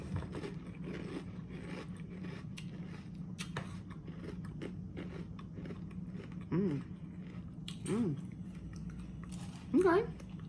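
Someone close by chewing crunchy cereal with almonds and light oats, a steady gritty crunching with a constant low hum underneath and a few brief vocal murmurs.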